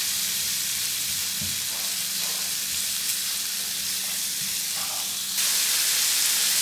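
Chicken chow mein with vegetables and spices is stirred and fried in a hot pan, making a loud, constant hissing sizzle with faint scrapes of stirring. The sizzle grows louder near the end, and no one speaks.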